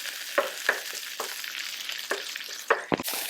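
Shredded collard greens frying in a pan for Portuguese pizza topping, a steady soft sizzle with several light clicks and stirring scrapes scattered throughout, close and moderately quiet, no voices.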